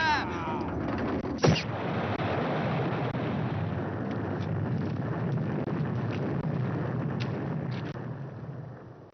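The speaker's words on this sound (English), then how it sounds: "that blast took the top of that mountain clear off" A huge dynamite explosion blows the top off a mountain in the 1996 PC FMV game Piper, a sharp crack followed by a long, rolling low rumble that fades slowly.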